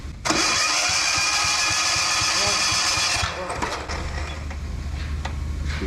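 Diesel engine in a workshop, first roaring loud and steady, then dropping abruptly to a lower, chugging idle that keeps running to the end.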